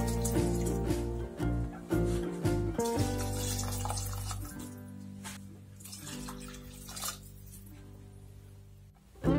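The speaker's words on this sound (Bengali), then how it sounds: "এরপরে এই বাটির 3 বাটি মতো জল আমরা এর মধ্যে অ্যাড করে দেব" Water pours into a pan of rice for pea pulao cooking over a low-to-medium flame, a continuous gurgling stream with ringing tones that shift in pitch as the vessel fills.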